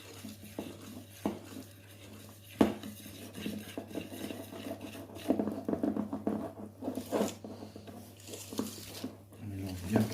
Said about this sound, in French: On mélange bien tout ensemble.